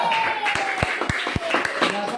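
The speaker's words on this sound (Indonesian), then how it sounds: "Tepuk tangan buat kelompok." A few sharp, spaced claps ring out in an Indonesian classroom as students applaud a group after its presentation, with room noise and faint voices underneath.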